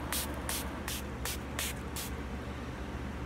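Six quick bursts of a spray bottle, evenly spaced over about two seconds, close by, with a low steady hum underneath.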